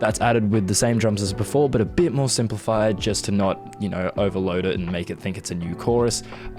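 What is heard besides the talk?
No everyday noise stands out behind the speech.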